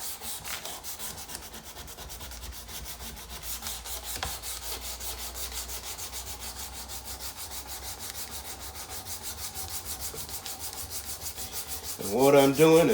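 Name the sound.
hand sanding with 220 grit sandpaper wrapped around a stick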